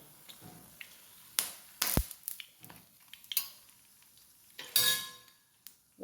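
Bajji being scooped out of hot frying oil with a metal ladle, heard as sparse, close clinks and scrapes against a pan, with only a faint sizzle between them in a quiet kitchen.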